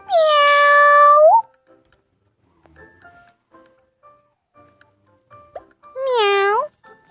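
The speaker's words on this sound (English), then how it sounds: "Meow! Aw, such a cute little kitty." A cat meows twice, each cry long, loud and close, with a quiet stretch of faint ticking and small sounds between them.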